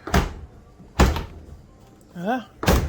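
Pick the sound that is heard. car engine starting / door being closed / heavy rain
door being closed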